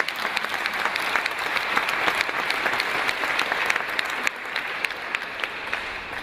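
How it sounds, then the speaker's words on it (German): Audience at a Sadhu Sundar Selvaraj preaching meeting applauds the preacher, a steady continuous wash of many hands clapping at moderate volume with a few louder individual claps standing out. "You all give him a good clap."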